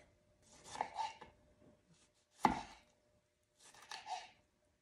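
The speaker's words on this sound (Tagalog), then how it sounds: "hiwain po natin ang kamatis" A knife slicing through a tomato while preparing steamed tilapia, three separate bursts of cutting with short crunchy strokes and one sharp thud against the board, close and quiet, with no talk.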